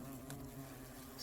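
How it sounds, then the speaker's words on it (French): European hornets buzzing steadily up close at a nest built inside an old wasp nest, a continuous droning hum with no voices. "Un vieux nid de guêpe réexploité par des frelons européens."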